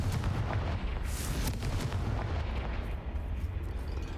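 A Confringo fire spell cast in Hogwarts Legacy goes off as a loud, dense blast, with a sharp burst near the start and a sustained rumbling roar that carries on throughout.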